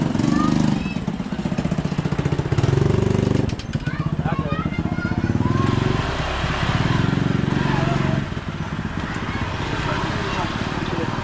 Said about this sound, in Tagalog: Oh, may dadaang motor.